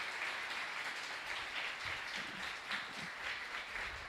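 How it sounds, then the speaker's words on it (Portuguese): A conference audience applauds steadily after an invited talk on synoptic-scale cyclones, with the dense clapping continuing throughout at a moderate distance. "Le damos un aplauso."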